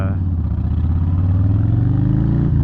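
A 2020 Harley-Davidson Low Rider S motorcycle idles at a light, its engine giving a loud, steady low rumble with a pulsing throb from close by.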